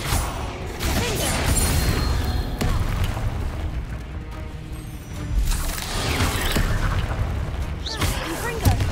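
Repeated booming spell explosions from Confringo casts in Hogwarts Legacy, loud crashing blasts in quick succession with debris-like rumble, a player voice speaking intermittently underneath.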